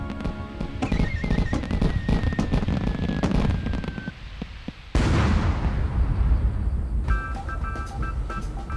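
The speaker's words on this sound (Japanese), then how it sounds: "真冬に真夏の花火大会。" Fireworks bursting and crackling in a dense, continuous barrage over the Sumida River at a fireworks festival, with whistling rockets and booming blasts over a loud, busy background.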